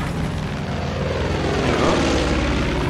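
An enemy airplane in the video game Far Cry 5 drones past as a loud, steady propeller engine roar that swells slightly toward the end.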